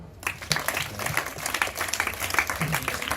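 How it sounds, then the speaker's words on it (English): A value-education classroom claps for a student who answered a yoga question, a loose patter of many small hands, moderately quiet and continuous after a brief lead-in, with faint voices mixed in. "Let's clap for him."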